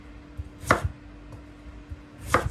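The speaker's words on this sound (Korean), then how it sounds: "무 볶음은 길게 채 썰어 주시면 돼요." A knife julienning radish on a cutting board, with two sharp, close chopping strikes spaced well apart and faint lighter taps between them over quiet background.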